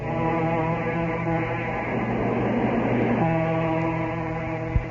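Train effect in an old radio mystery drama: a steady rolling rumble with sustained humming tones and a short burst of rattling clatter in the middle, ending with a sharp knock.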